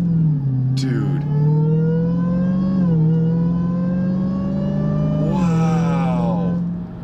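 A 2021 Dodge Charger Redeye fitted with a Legmaker intake drones loudly at cruising speed, a steady deep engine hum with rising and falling pitch as the throttle shifts, while someone talks excitedly over it.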